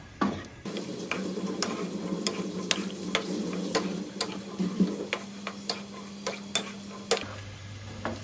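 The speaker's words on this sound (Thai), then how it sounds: "เคล็ดลับในการคั่วนะคะ เราก็จะใส่น้ำลงไปนิดนึงค่ะ เพื่อที่จะให้เขาสุกเร็วนะคะ" Thai chilli paste ingredients being dry-roasted in a pan with a splash of water, giving a steady low sizzle under a string of sharp ticks and taps from stirring, with no talking.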